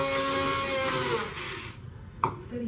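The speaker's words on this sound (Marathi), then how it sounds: "ब्लेंडरनं वाटतीये." A kitchen blender grinds masoor dal with a loud, steady whirring that fades as the motor winds down, followed by a sharp knock and a brief renewed buzz.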